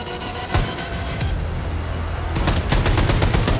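Loud, dense rapid gunfire in the first-person shooter Wolfenstein 2: The New Colossus during the final boss fight, sustained bursts over a rumbling low background with no talk.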